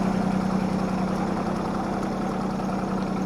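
A John Deere tractor engine runs at a steady idle, a constant low throbbing drone close by with no change in pace.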